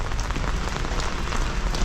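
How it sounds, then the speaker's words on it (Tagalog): Heavy rain pours down steadily in Paris, a dense, even hiss of drops drumming on surfaces with no letup and no voices. "Lakas na ulan no."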